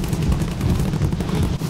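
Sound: gunfire in a video game

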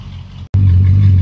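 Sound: rebuilt Mercedes E55 engine running after start-up

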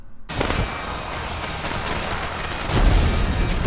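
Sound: fireworks in Pokemon Sword and Shield video game

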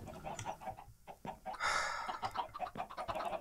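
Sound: chickens clucking in Minecraft video game

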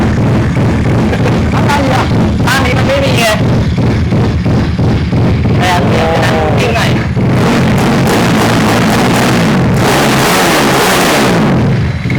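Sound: vehicle engine being kick-started by foot

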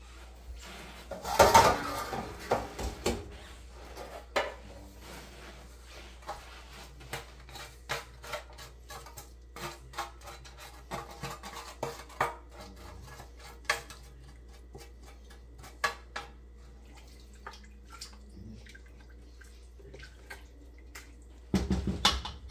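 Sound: scraping turkey drippings from a pan into the stock

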